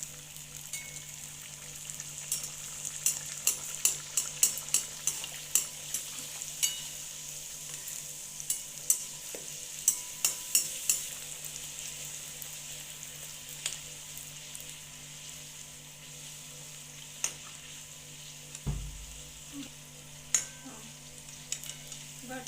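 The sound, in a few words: deep-frying bhature in oil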